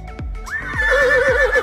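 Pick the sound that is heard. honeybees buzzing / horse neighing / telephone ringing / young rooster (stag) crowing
horse neighing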